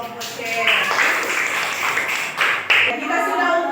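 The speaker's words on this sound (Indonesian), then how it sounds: "Beri tepuk tangan untuk kelompok C" Elementary school pupils in a classroom clap for a group after its presentation, with dense, fairly loud applause lasting several seconds and voices mixed in.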